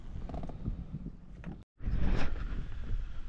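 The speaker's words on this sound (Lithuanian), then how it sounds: "pakilo labai didelis vėjas" Strong wind on a lake while fishing roars into the microphone as a loud low buffeting rush that drops out briefly midway, then returns stronger.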